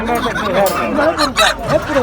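Fowl at a poultry market in Kırıkkale, including roosters, give harsh squawks and honking calls, with one louder burst partway through, amid steady crowd noise and people talking nearby.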